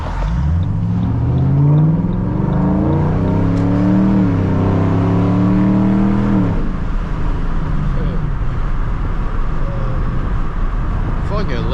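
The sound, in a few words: Ford Mustang 3V engine driving at night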